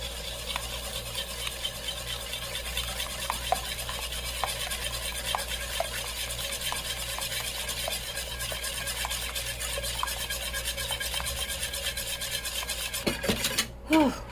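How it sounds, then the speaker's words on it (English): Whisk or spoon stirring egg custard in a heavy pan while mixture streams in, a soft continuous scraping and swishing with faint, irregular clicks against the pan, steady and close. "So I'm going to slowly stream it in like this and stir the entire time."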